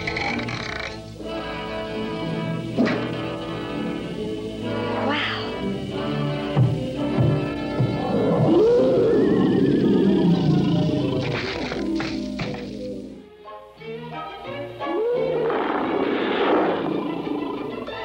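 A cartoon lion roars in the 1957 Gumby Show, with rough, growling bursts rising over a busy musical score, the roars returning near the end after a brief dip.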